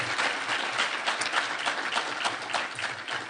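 A round of applause from an audience honoring guests at an anniversary celebration of the February One sit-in, steady and full clapping of many hands sustained throughout, with no talk over it.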